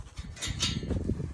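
A Jindo puppy whimpers and whines in a steady, fairly close run of thin cries over a low rumbling background, with no clear speech.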